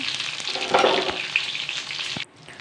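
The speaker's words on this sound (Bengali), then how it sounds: "পটলগুলো এখন কিছুটা অনেকটা ফ্রাই হয়ে এসেছে" Pieces of pointed gourd (potol) fry in oil on high flame, a dense close sizzle broken by a few stirring clatters and scrapes before the sound drops off suddenly near the end; nobody speaks.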